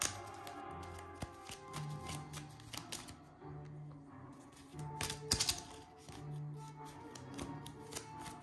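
Playing cards being reshuffled during a French tabletop card game, a run of crisp riffles and papery flicks close up, broken by small clicks and clatters, with no talking.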